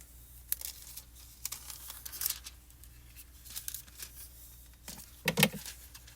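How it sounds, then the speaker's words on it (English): Snips and crinkles of scissors cutting a sheet of craft foil, a few scattered sharp cuts with a louder burst of crinkling near the end, close by and fairly quiet. "And I'm going to cut another piece of foil."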